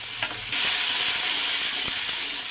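Spice masala with salt and dried red chili powder frying in oil in a pan, a loud steady sizzle with stirring scrapes throughout, no talk.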